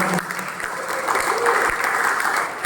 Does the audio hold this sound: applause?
yes